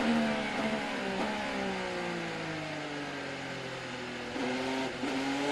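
An IndyCar race car on a wet track at the 2018 Grand Prix of Alabama gives a steady, mid-distance engine whine, its pitch sliding down and stepping back up through gear changes.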